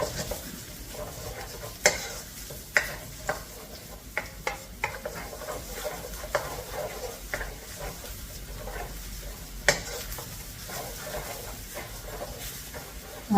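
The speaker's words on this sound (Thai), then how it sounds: "เราจะเจียวให้ น้ำมันแล้วก็ตัวของกระเทียมอะค่ะมีสีเหลืองอ่อนนะคะ" Garlic frying in oil in a hot wok over low heat, a continuous soft sizzle broken by sharp spatula scrapes and clinks against the metal, close up with no talking.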